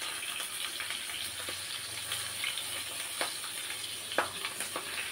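Fish fries in a pan, giving off a soft, steady sizzle with scattered small crackles and pops, fairly quiet and with no one talking.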